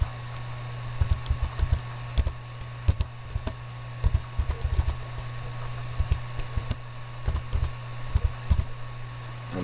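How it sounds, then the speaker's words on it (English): Keys clatter in irregular quick bursts as text is typed on a computer keyboard, close and clear over a steady low electrical hum. "Now type, turn on your cap lock and type ground floor plan."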